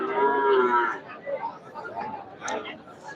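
Cattle, mostly Friesian cows, low and moo amid the chatter and crowd babble of a busy cattle market, with a clear lowing call near the start and voices talking over the animals.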